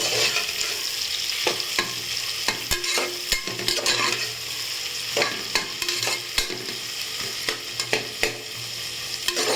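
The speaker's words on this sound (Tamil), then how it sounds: "வெங்காயத்தை சேர்த்து நல்லா வதக்கிக்கலாம்" Onions with green chillies sautéing in a hot pan for capsicum biryani, with a steady sizzle and repeated scraping clicks of a spoon stirring, close and with no talking.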